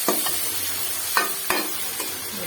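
Chopped tomato tipped into a pan of frying onions, garlic and ginger for mutton pulao, giving a steady sizzle with a few sharp stirring scrapes and clinks of a spoon against the pan.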